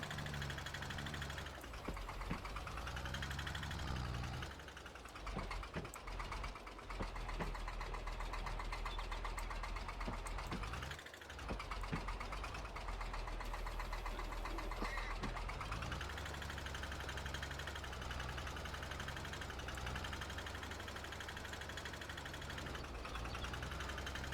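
Tractor engine in the Farming Simulator 22 video game, a steady mid-to-low running drone that holds on without a break and dips briefly partway through, loud and close with no talk over it.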